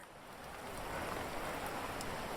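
Rain falls near Neyyar Dam in Kerala, a steady hiss of drops on surfaces that swells during the first second and then stays constant, with no one talking.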